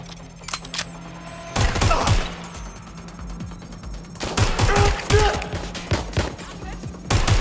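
Bursts of incoming automatic gunfire in the video game Watch Dogs Legion, rattling in clustered volleys between quieter gaps, loud and close, with a voice speaking over parts of it.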